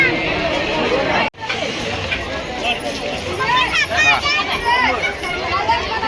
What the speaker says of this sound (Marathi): आज भरपूर गर्दी आहे